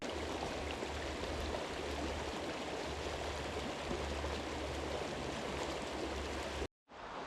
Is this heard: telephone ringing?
no